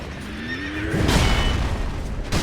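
A horse in a video game boss fight rears and lets out a loud, clear whinny with a rising-falling pitch, followed by a heavy thudding impact, with no talk over it.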